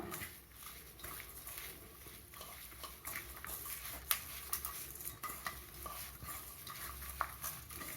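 Cabbage vada batter with finely chopped onion being mixed by hand, a steady soft squishing and stirring close by with occasional light clinks, no talk.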